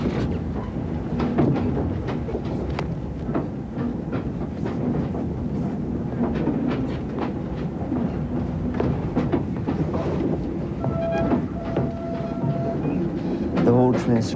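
A moving train rumbles steadily from inside a carriage, with a rhythmic clickety-clack of wheels and occasional thumps, loud and continuous, and a brief high squeal near the end.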